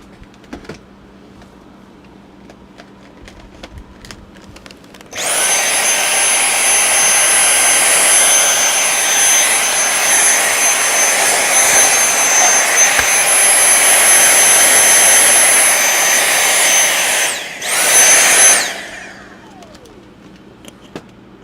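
An electric drill bores a hole in a wattmeter enclosure, a steady high whine running about twelve seconds after a quiet start, dipping briefly before it spins down.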